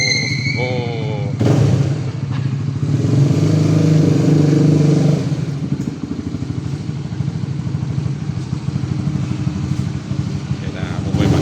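A motorcycle engine idles and revs at close range as the rider pulls in to park in a building's parking area, its steady mid-pitched drone running throughout while someone talks over it.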